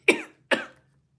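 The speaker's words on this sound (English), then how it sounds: "Oh, I'm coughing." Two short, close coughs in quick succession, each fading out quickly, followed by quiet.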